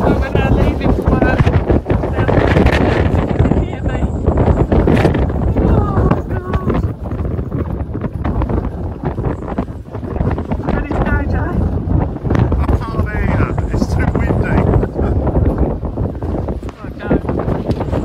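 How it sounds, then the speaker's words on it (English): Strong wind buffets the microphone outdoors as Storm Eunice approaches, giving loud, continuous rumbling gusts for the whole stretch. "Windy."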